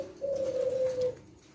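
A tekukur, or spotted dove of the leopard silver type, gives one sustained close coo that holds a steady pitch for nearly a second, clear over quiet background.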